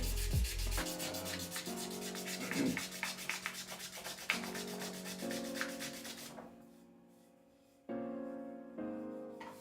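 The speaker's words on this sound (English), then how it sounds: "Hours and hours and hours of sanding." Steady rhythmic rubbing of sandpaper on wood during guitar repair, close and continuous, pausing briefly before resuming.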